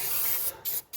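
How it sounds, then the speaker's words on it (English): Aerosol spray hissing onto an engine belt during engine cleaning, two steady bursts broken by short pauses, close and fairly loud with no talk. "spray it on the belt"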